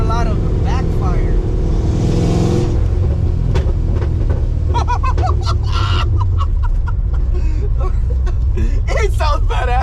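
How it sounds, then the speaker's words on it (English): Ford Foxbody running rich, its loud exhaust revving and crackling with repeated backfire pops throughout, with people talking over it. "So you hear a lot of backfire."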